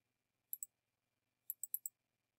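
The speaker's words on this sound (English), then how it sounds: "So I'm going to double click on this." A computer mouse clicks close and crisp in an otherwise quiet room: one quick double-click, a pause, then two more rapid pairs of light plastic clicks.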